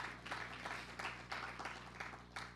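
Audience applause at a Village Square public forum held at SPC, steady broadband clapping from a room of people with bursts of stronger clapping across the stretch.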